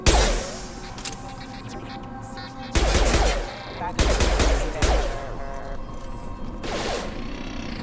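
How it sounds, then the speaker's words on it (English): Fenris mechs open fire during a colony attack in Mass Effect 2, with sharp bursts of weapon fire and impacts arriving in several loud, close volleys over a steady low rumble, and some game speech in the mix. "That sounds like Fenris mechs."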